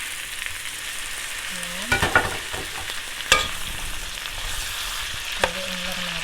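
Golden-brown fried pork belly with tomatoes sizzles steadily in a pan. A spoon stirs it with a few scraping clatters, and a brief word is spoken.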